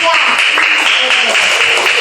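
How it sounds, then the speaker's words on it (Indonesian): Classroom of third-grade pupils clapping for a student group, a dense, steady patter of many small hands running throughout at close range, with children's voices mixed in underneath. "Kita beri tepuk tangan dong buat kelompok 3"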